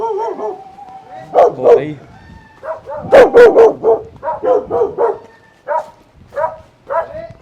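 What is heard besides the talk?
dog barking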